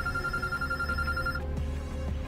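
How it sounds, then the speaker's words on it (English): An electronic telephone ring tone in the video game Road 96, a steady high trilling tone for over a second that then cuts off, over a low background hum. "The phone's ringing."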